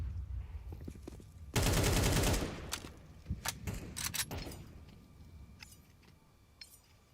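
Counter-Strike SMG gunfire in a pro match, a dense loud burst of rapid automatic fire followed by scattered sharp single shots and clinks against background game noise.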